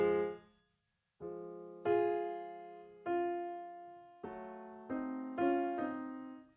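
Clean sampled piano from the Ravel VST plugin plays a slow series of single notes and chords, each ringing and decaying naturally, soft and close, with no voices.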